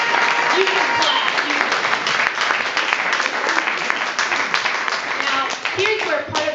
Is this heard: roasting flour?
no